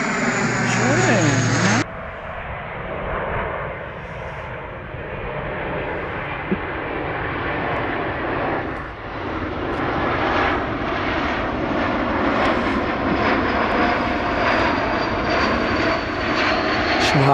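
A propeller aircraft engine drones steadily overhead, growing louder toward the end, heard outdoors over wind and rolling noise while people talk.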